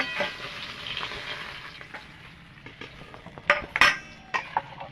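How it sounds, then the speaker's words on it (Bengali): Fish frying in hot oil in a pan, a soft sizzle under clinks and scrapes of a utensil against cookware, with a few sharper metallic knocks near the end; no one speaks. "মাছটা উল্টে পাল্টে ভেজে নেব"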